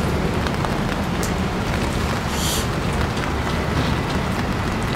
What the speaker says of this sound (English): It's raining like a bitch out here.